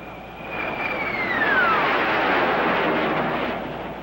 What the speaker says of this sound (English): We are approaching you now on straight jet.